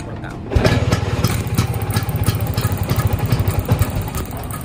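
A Vespa Super Sprint scooter engine catches almost instantly and settles into a loud, close, uneven sputtering idle.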